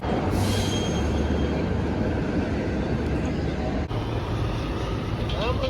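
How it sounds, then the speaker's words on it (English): San Francisco cable cars pass on Powell Street, making a steady, loud rail rumble with street traffic noise and a faint high wheel squeal toward the end. "passing Powell Street, all the trams."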